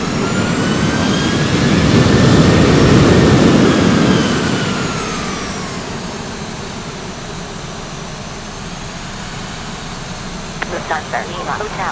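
Lufthansa jet airliner engines in the X-Plane 12 flight simulator roar loudly with a rising whine, swell, then ease to a steady lower drone, with a voice briefly heard near the end.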